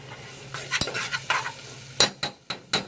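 A spoon stirring tomato paste into oxtail stew in a pot, a series of sharp scraping clinks against the pan over a faint sizzle, quickening into several distinct strokes toward the end.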